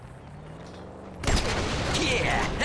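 Gunfire at targets in GTA 5 breaks out suddenly after a moment of quieter talk. A loud, dense burst of rapid shots keeps going to the end.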